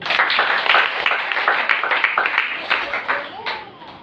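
Congregation clapping during a church sermon in praise of Jesus, a dense, steady wash of many hands across the whole stretch with voices mixed in underneath.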